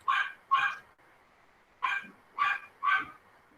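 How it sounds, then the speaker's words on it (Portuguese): A dog nearby barks five times in two quick pairs and then a group of three, sharp and loud, over a faint steady background with no talk. "Tem um cachorro aqui, pessoal."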